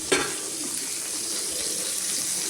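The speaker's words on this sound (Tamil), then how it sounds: "எறா மண்டை ஃப்ரை." Shrimp heads fry in hot oil, giving a continuous, fairly close hiss and sizzle that stays steady throughout, with a brief clatter at the start and no speech.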